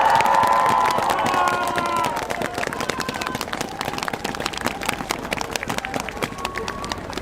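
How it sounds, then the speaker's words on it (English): Crowd applause and cheering at the Arctic Pride Parade in Rovaniemi, Lapland, Finland. A voice speaks at first, then dense, steady clapping and scattered shouts carry on to the end. "So let's give them a round of applause"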